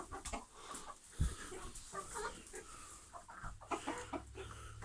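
Chicken clucks and soft calls from a rooster in a coop on a rainy day, fairly close, scattered over several seconds with rustling and a low thump in the background.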